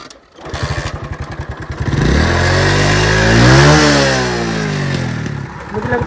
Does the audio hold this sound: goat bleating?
no